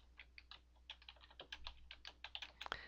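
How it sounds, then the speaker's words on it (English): A file name is typed on a computer keyboard, a quick run of close, crisp key clicks with a few brief pauses, alone in a quiet room. "You're going to type a file name"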